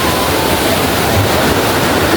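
The Mai river in Nepal flows past with a loud, steady, broadband rush of water that stays even and unbroken for about two seconds, with no voices.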